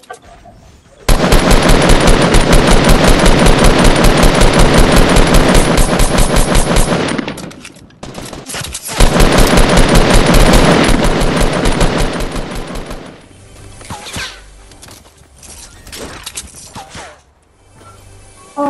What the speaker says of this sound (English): They shot at, but they missed me.